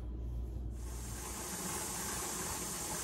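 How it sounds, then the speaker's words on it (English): A pressure canner vents steam while canning cream line milk, giving a steady, broad hiss that holds constant throughout, fairly close and with no voices. "the pressure gauge is raised, so we're gonna let it blow off steam for a full 10 minutes"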